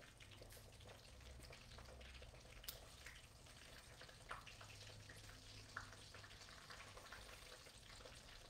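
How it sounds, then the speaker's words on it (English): Corn fries in hot oil for Cajun fried corn nibblers, a steady faint sizzle and crackle with occasional sharp pops and light stirring clinks, continuous and fairly close with no speech. "We're currently frying our corn for our Cajun fried corn nibblers."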